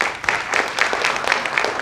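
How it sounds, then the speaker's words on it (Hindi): Audience at a theatre festival in Bhopal breaking into loud, dense applause for an honoree receiving an award, a continuous burst of many hands clapping with no speech. "आपकी जोरदार तालियां हो जाए।"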